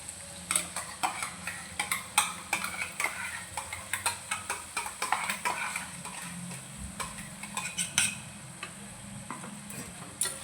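Masala paste being stirred and mixed in a pan of oil with a spoon, a steady run of scraping and clinking strokes over a faint sizzle, close and fairly loud, no talk.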